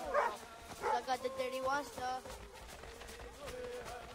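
A dog barks a few times at close range in the Assassin's Creed 3 video game, short yapping calls mixed with game music and effects, with someone talking in between.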